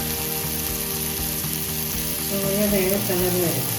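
Soy sauce hits a hot pan of egg fried rice with a steady, loud sizzle that swells midway as the liquid spreads, alone without talk.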